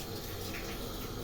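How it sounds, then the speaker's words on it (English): Water pours steadily into a saucepan while brewing Thai kratom tea from the leaf, a continuous soft gushing stream with no break, fairly quiet and close. "we're just adding the rest of the water here"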